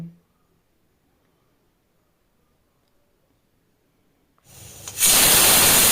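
A pressure cooker of salted dal stays quiet at first, then bursts into a loud, close rushing hiss of steam near the end.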